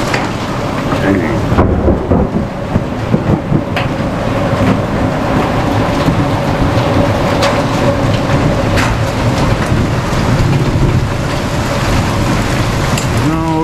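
A small storm at a rural homestead brings heavy rain pouring onto surfaces, with rumbling thunder and scattered sharp impacts throughout, loud and close, and a voice briefly audible.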